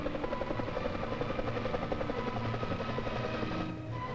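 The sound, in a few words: helicopter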